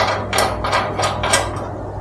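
Bolts on a bike lift are tightened with a ratchet, giving about five quick, close clicking strokes in a steady rhythm over a low hum.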